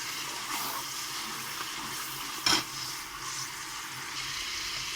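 Homemade hair oil boiling and bubbling in a pan, a steady hissing bubbling texture up close with one brief sharper pop near the middle.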